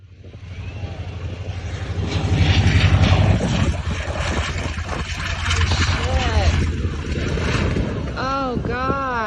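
Propeller airplane engine droning loudly as the aircraft passes close overhead before an emergency water landing off Satellite Beach, Florida, rising and falling, with people talking and exclaiming over it.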